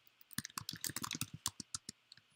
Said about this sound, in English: I'm typing that right.